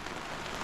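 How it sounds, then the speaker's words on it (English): Rain falls outside, a steady even hiss of drops on surfaces that fills the short moment at low, constant loudness, with no talking. "the weather has turned to rain today. It's getting pretty wet out there."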